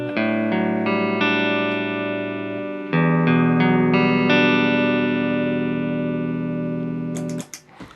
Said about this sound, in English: This is the clean signal with a little bit of a reverb.